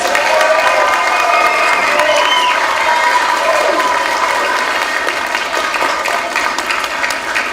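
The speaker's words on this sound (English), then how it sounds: "let's give them another huge round of applause" Families in a school audience give a loud, sustained round of applause with cheering and some shouting voices for a student choir's Halloween performance, dense clapping fading slightly toward the end.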